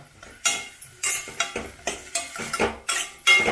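A spoon works radish sambar mixture with tomato and oil around a pan, giving about ten rhythmic metallic scrapes and knocks against the pan with a faint sizzle between strokes and no voices.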